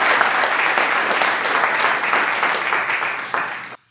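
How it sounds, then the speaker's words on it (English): A crowd applauding steadily and loudly, dense clapping throughout that cuts off abruptly near the end. "give Jack and the cast and crew another round of applause"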